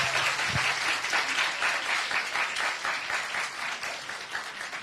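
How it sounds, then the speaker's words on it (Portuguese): An audience at an academic education session gives a round of applause in tribute to educator Danilo Gandin; the clapping is moderately loud, continuous and dense, with a brief low thump near the start. "já começamos uma salva de palmas"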